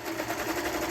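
A sewing machine stitching along the seam of a fabric tube for turning, a rapid continuous mechanical chatter of needle strokes, close and steady for under a second.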